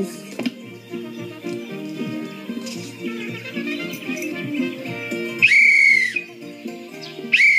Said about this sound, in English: I heard her whistle blow.